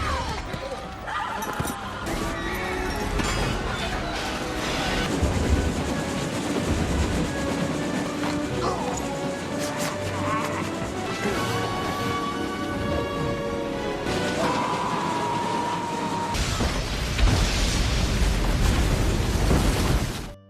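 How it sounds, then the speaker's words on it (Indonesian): Heavy train rumble with a dramatic score, then a loud crash and explosive burst near the end as the train derails. "kereta itu anjlok dan kemudian meledak."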